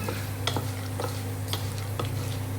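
Puffed rice tossed with salt and turmeric in a pan, stirred with a spoon: faint scraping and light clicks at irregular intervals over a constant hiss and low steady hum.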